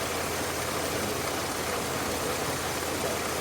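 A car engine idles steadily after a carburetor adjustment, with a constant, even rumble that stays level and close throughout.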